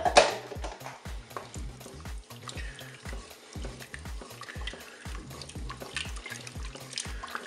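Spoon stirring chicken with crème fraîche in a Cookeo pot for a lemon chicken dish, a steady run of rhythmic scraping strokes with a soft wet sloshing quality, close and continuous, no voices.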